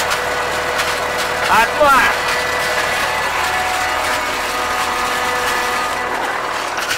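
A CLAAS 46 baler's twine wrapping mechanism starts up during a haylage harvest. Its steady machine hum carries a brief ratcheting, clattering burst near the start, and someone speaks over it.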